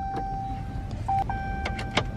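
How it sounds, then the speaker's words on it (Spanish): A car is locked: a quick electronic chirp and a short mechanical clunk, then a few small clicks, close and moderately loud over faint outdoor background, with no talking. "A ver, espérame, voy a cerrar el carro."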